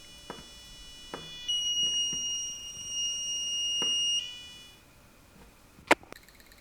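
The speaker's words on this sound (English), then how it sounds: "this is the result of varying the pitch of the buzzer." An active buzzer on an Arduino starter kit, driven by analog write, sounds a sustained high electronic tone for about three seconds amid faint clicks, ending with a sharp click.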